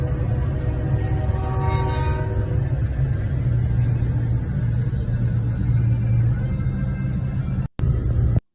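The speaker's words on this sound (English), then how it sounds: "Have you ever seen a train go through the snow that's on the ground?" A train ploughs through snow lying on the ground, its horn sounding a sustained tone early on over a loud, steady rumble that continues throughout.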